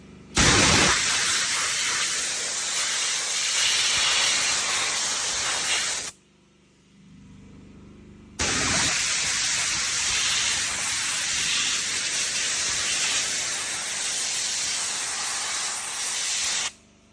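Loud, steady spraying water blasts against a plow blade to clean it, a long hissing jet that cuts out for about two seconds and then resumes before stopping.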